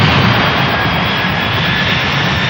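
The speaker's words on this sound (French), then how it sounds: "Ce jour-là, l'avion est reparti 34 minutes plus tard." Jet engines of an Air France airliner departing, a loud continuous broadband roar that holds steady throughout, close and without talk.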